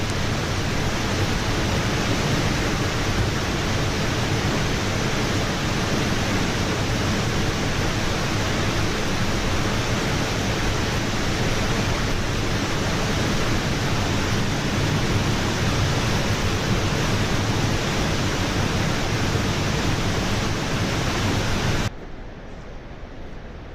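Noccalula Falls roars in a steady, dense rush of falling water heard up close from the path beneath the waterfall, unbroken and loud until it drops off abruptly near the end.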